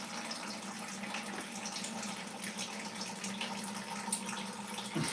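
Tap water running steadily over apples being rinsed for cider-making, a continuous close splashing stream with slight variations, no talking.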